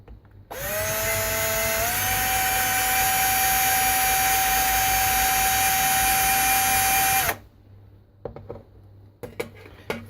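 A drill with a blunt bit whines loudly at a steady high pitch for several seconds, rising briefly at first, then stops abruptly, followed by faint clicks and handling noises.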